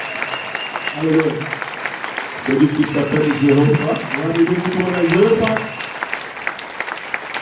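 A church congregation claps and cheers in praise, a loud wash of applause spread through the room, heard under a preacher's amplified voice speaking and chanting over it.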